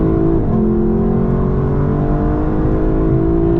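A Lexus car accelerating out of a corner on the Laguna Seca track, a loud, close engine drone rising steadily in pitch as power is squeezed on, heard from inside the car without talk.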